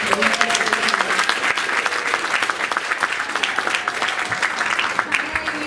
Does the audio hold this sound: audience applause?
yes